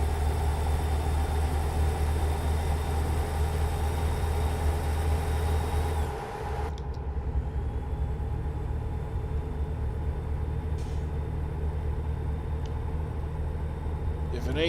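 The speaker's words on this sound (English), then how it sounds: "Listen to that engine purr" A Peterbilt truck engine idles steadily in a trucking video game, a continuous low rumble with a brief dip midway, and someone talks over it.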